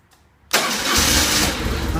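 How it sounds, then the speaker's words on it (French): A BMW R 1150 RT motorcycle engine cranks and catches after a half second of quiet, then runs on steadily and loudly at close range. "Et là on va procéder à un démarrage, voir si tout va bien."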